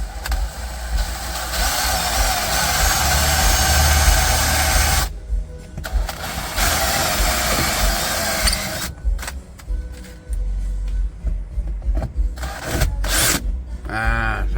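A power drill bores holes through the hard metal A-pillar of an Isuzu TFR Dragon pickup. A loud, steady motor whine runs for several seconds, stops, then comes back in choppier bursts.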